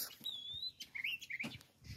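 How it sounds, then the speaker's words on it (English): Several birds chirp and whistle in a backyard vegetable garden by a fence where cucumbers are growing, with bright tweeting calls rising and falling, moderately close, and no talking. "Birds over there talking to us."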